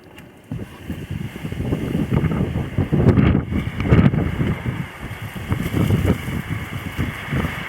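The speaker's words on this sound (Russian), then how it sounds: "Итак, перемещаемся, пока ветер есть, бо ближе к вечеру ветра уже не будет." Gusty wind blows outdoors during a horizontal wind generator's first test run, a steady loud roar with rumbling buffets on the microphone that swell and ease for several seconds.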